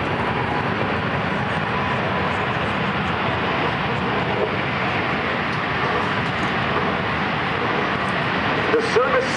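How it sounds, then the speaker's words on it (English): A C-17 Globemaster with Pratt & Whitney F117 engines deploys its thrust reversers after touchdown at an air show, producing a steady, loud, rushing jet roar that continues for about nine seconds. A faint voice may be underneath. "Spoilers, listen to the thrust reversers"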